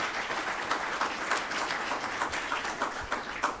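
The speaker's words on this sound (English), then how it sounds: "round of applause for Vlad" A conference audience at an executive talent management forum applauds an event organizer, steady dense clapping filling the room at moderate loudness with no voices over it.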